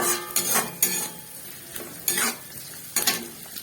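Capsicum and onion stir-fry in a hot pan for chilli chicken, a steady sizzle broken by several bright scraping stirs of a spatula against the pan at irregular intervals, close and with no one talking.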